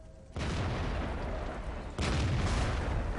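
A heavy tank gun fires in World of Tanks, aboard a Tier 8 Caernarvon, with two loud broad booming blasts about a second and a half apart that rumble on and stay loud.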